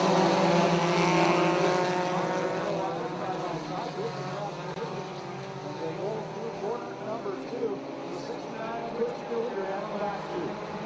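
Ministock race cars start a heat race at The Big O, their engines droning loudly as a steady, rising and overlapping roar that fills the whole clip.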